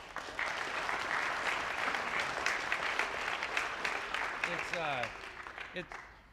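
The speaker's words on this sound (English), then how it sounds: "Another big round of applause for Richard." Sustained applause from a crowd, steady clapping for several seconds that tapers off near the end.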